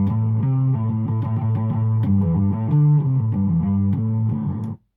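A fuzzy, distorted bass guitar through a Big Muff fuzz pedal and reverb plays a thick rhythmic line with a roomy reverb tail, ending abruptly.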